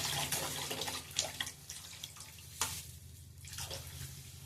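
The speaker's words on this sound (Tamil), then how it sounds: "புளி கரைச்சி வச்சுருக்கோம்ல, அந்த புளி தண்ணியை நம்ம இதில் ஊற்றுறோம்" Tamarind water is poured into a pot of fish curry, giving a soft, continuous splashing and trickling with a couple of brief louder gurgles, fairly faint and with no voices.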